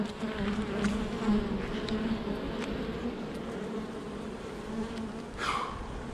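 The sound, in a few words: honeybees buzzing at an open hive during inspection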